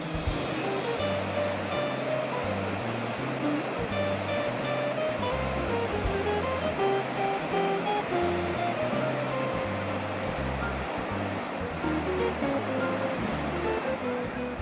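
Steady rushing water of a salmon and sea trout fishing river in Iceland roars continuously throughout, full and close, with faint tonal sounds drifting over it.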